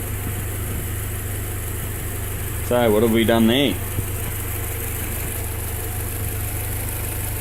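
A Honda B18 1.8 litre Integra engine fitted in a Moke idles with a steady, even low rumble that runs throughout, while someone speaks briefly over it partway through.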